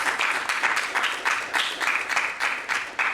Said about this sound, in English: Could we please give her a round of applause?